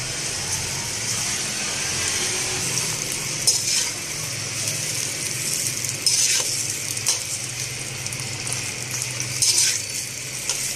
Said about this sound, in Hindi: भिंडी को मैं फ्राई कर लेती हूँ 4-5 मिनट के लिए।